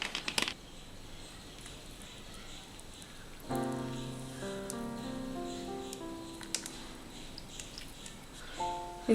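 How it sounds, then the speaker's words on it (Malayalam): Chilled soda is poured into watermelon juice, a steady fizzing pour with bubbly tonal streaks that runs for several seconds in a quiet kitchen, fairly soft and close. "ഇനി ഇതിലേക്ക് ഒഴിക്കുന്നത് സോഡയാണ്,"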